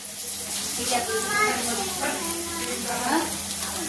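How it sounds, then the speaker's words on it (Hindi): Tomatoes sizzling in a pan with fried onion and chili, a steady crackling fry under someone speaking at moderate volume. "आपण कांदा मिरची छान भाजून घेतलेले, त्यामध्ये आता टमाटर ऍड करायचे"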